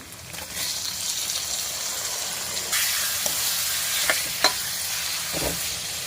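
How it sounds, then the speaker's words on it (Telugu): Washed chicken with turmeric and salt fries for gongura curry in a loud, continuous close sizzle that surges partway through, with a few sharp ladle taps and scrapes and no voices. "ముందుగా పసుపు ఉప్పు వేసుకుని శుభ్రంగా కడుక్కున్న చికెన్ కూడా ఇప్పుడు వేసుకున్నాం"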